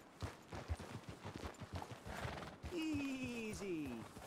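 Horse hooves clop irregularly over a soft background, then a horse lets out a long, loud whinny that wavers and drops in pitch, in the video game Red Dead Redemption 2.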